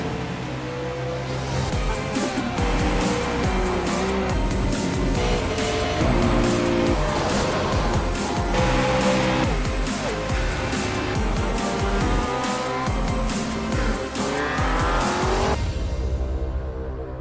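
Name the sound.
race cars in iRacing sim racing video game, Nürburgring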